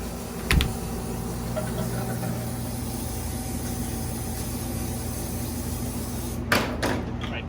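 A door on refrigeration equipment opened and shut during a service call to test its switch, giving two sharp knocking thuds several seconds apart over a constant machinery hum.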